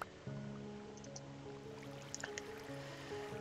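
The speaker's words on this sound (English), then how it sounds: "A little bit of a water feature coming off there" Soft trickle and drip of a flowing water feature in Minecraft, a faint steady stream with scattered small splashes over a quiet humming background.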